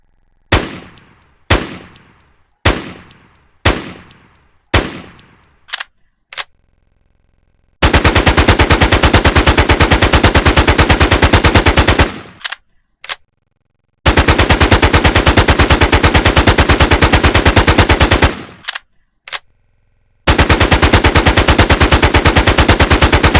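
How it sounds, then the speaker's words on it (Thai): An SG 552 rifle fires in a video game: a string of single sharp shots with ringing tails, then long, loud, unbroken automatic bursts separated by brief pauses and a few isolated shots. "ปืนกระบอกที่ 3 ครับเป็นปืนที่เราเห็นกันบ่อยๆในเกม Infestation นะครับนั่นคือ6 SG 552 นะฮะ"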